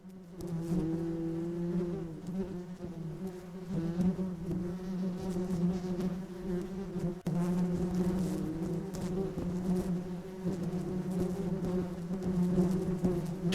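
Bees buzz in a low, steady drone in Haunted PS1 Demo Disc 2020, a continuous close swarm hum with slight wavering throughout.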